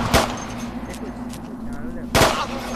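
Gunfire in the military video game Arma 2, during a night zombie mission: two loud, sharp shots about two seconds apart, with fainter pops and low rumble between them.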